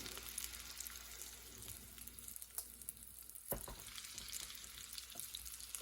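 A single hamburger patty fries in a pan on medium heat, giving a steady close sizzle with bursts of popping and spatter throughout and no voices.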